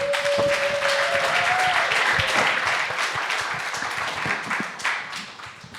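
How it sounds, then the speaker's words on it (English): Audience at a nightlife culture panel applauds a speaker, sustained clapping from a crowded room that gradually tapers off, with no voices over it. "Let's give David a round of applause."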